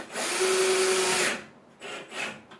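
A power driver whirs for about a second while tightening TV wall mount hardware, followed by two shorter bursts, close and fairly loud with no talking.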